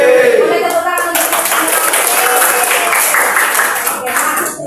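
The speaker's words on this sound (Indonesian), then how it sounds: "Boleh tepuk tangan untuk" A school class claps hands together, a dense, loud patter of clapping mixed with children's chatter that keeps going through the whole clip.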